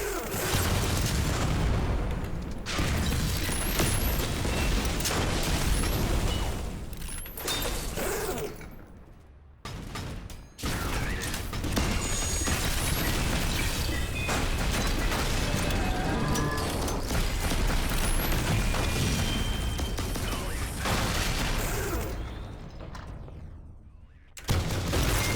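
Dense, continuous gunfire and explosion booms from turret shooting in the video game Synthetik 2, a rapid barrage that runs nearly nonstop with brief lulls around the middle and near the end.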